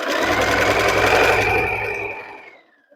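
A sewing machine stitches along a dress hem, running steadily and loudly, then slowing and winding down to a stop near the end.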